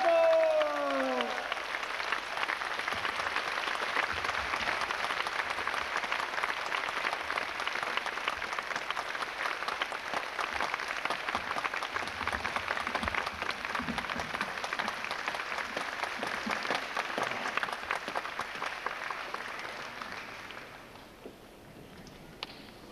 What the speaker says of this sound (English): I want to request you to give a full applause to Krishna Chetra Prabhu